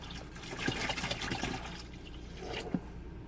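Black tank treatment liquid pours into an RV toilet bowl in a steady trickling, splashing stream, close by, with a few brief clunks along the way.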